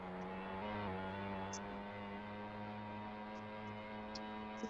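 A slow BS-class motorbike in the open-world game Vice Online drones steadily with a low engine hum throughout, held at a constant pitch and quite faint, with a few small clicks above it and no talk.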